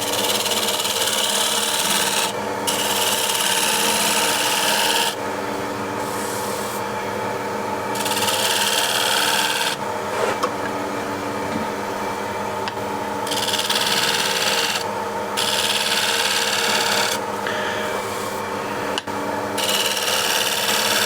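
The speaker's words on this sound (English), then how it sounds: "Try not to get the unsupported edge of the scraper here at the corner of the foot" A hand scraper drags steadily over wood in long, even rasping strokes with brief pauses between passes, close and clear with no talking.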